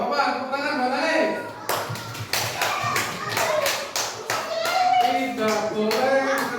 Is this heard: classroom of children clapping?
yes